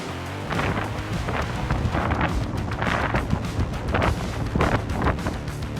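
Fierce gust-nado wind storm tearing apart a stage in North Texas, a loud, continuous roar of buffeting wind with rushing surges and rumbling bursts throughout.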